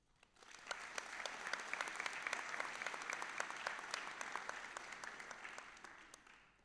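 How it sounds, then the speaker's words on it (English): An audience at a college fall convocation breaks into applause, sustained, dense clapping that swells quickly, holds steady for several seconds and tapers off, heard at a distance. "Please begin by giving yourselves a huge round of applause."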